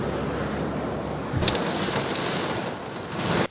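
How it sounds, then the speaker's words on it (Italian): Steady, heavy rain falls on a summer afternoon, a dense even hiss close by that carries on throughout with a brief louder burst partway and no voices. "La pioggia inizia a scendere alle 13"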